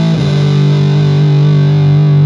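An electric guitar through a Keeley Moon Big Muff-style fuzz pedal, a thick, saturated sustained chord ringing loud and steady with no other sounds.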